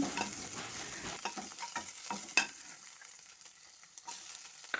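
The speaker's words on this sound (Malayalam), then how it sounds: "കടുക് പൊട്ടി വരുമ്പോൾ കറിവേപ്പിലയും ഇഞ്ചിയും വെളുത്തുള്ളിയും ചേർത്ത് വയറ്റി കൊടുക്കാം" Mustard seeds, curry leaves, ginger and garlic fry in hot coconut oil for a rasam, giving a steady close sizzle with scattered sharp pops and crackles and a few stirring scrapes, with no talk.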